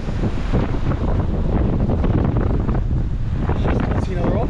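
Strong wind roars across open water around a packraft at sea, buffeting the microphone in a loud, continuous gusting rush with waves beneath.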